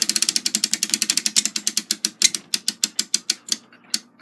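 A ratchet winds down a clock mainspring into a clamp during the rebuild of a Takeda short-drop octagon clock, giving a rapid, steady series of sharp metallic clicks, close and clear with no talking.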